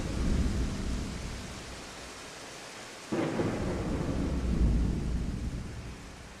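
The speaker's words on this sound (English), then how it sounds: "fade out on the rain and the thunder and lightning" Rain and rolling thunder from the outro of a rock song recording form a steady broadband wash with a sudden loud thunder crack midway that rumbles on, heard alone without music or voices.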